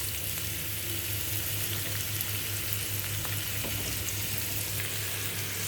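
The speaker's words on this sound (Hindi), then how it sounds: "प्याज को हम हल्का सा लाइट ब्राउन होने तक पकाएंगे।" Onions and green chillies fry in hot oil in a pan, giving a steady, close sizzle that holds evenly throughout with no one speaking.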